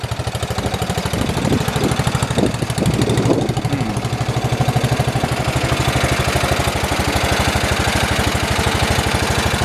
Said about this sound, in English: Doesn't seem like it's idling as good as it used to, or throttling up.